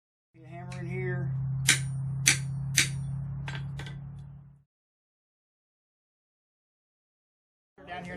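A hammer strikes a small rivet set on a colonial-style candleholder, giving three sharp, distinct taps over a steady low hum before a silence.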